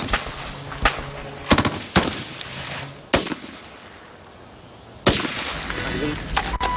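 Sharpshooters' rifle gunfire during a Royal Marines patrol in Afghanistan: several loud, sharp cracks spaced irregularly, some in quick bursts, echoing over a low outdoor background.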